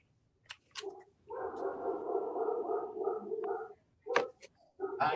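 A large dog barks repeatedly in a room during a county supervisors meeting, its deep, sustained harmonic barks forming a long run in the middle, with shorter bursts and a few voices around it.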